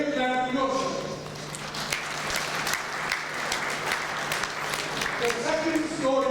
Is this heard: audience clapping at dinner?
yes